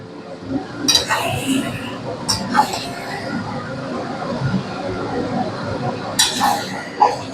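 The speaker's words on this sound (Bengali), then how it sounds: "এবার মাটনটা দিয়ে আবার ভালো মতন করে কষিয়ে নেব" Marinated mutton is stirred and fried in spice paste in a pot for Bengali-style mutton curry with potatoes. A metal spoon clanks and scrapes against the pot in irregular bursts over a low frying rumble.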